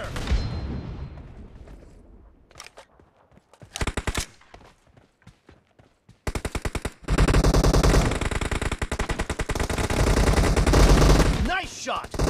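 Gunfire in the PUBG Mobile video game with an SKS rifle begins as sparse single shots, then breaks into a loud, sustained burst of rapid fire that continues to the end.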